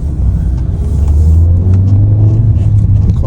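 Inside a car on a morning drive, the engine gives a loud, steady low rumble with road noise, continuous throughout with no music or voices.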